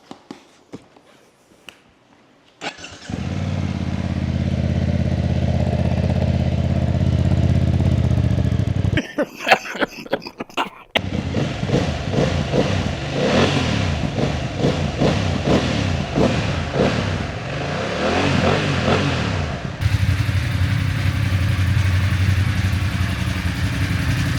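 A yellow BMW F 900 GS motorcycle with its stock Akrapovic exhaust starts and idles nearby in a steady low rumble, broken by a brief pause, with clattering handling noises and footsteps around it.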